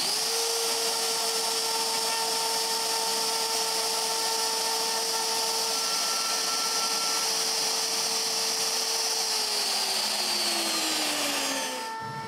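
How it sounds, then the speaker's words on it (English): An X-Carve CNC router carves a small wooden woodpecker with a loud, steady, high-pitched motor whine that holds nearly unchanged, then the pitch drops as the spindle winds down at the end. "Now I'm going to use my X-carve to carve a small woodpecker on top of the poles."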